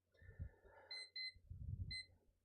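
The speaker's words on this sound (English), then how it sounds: "Oh, my timer went off." A timer alarm goes off in a quiet room, a short series of clear electronic beeps in irregular bursts over low background noise, with no talking.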